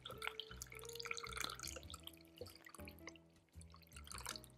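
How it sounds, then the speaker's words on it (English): Cold brew coffee drips and trickles through a paper filter into a container below, a soft, close, continuous patter of small drops with faint glassy ringing and no voices. "And just let that all drip down into there."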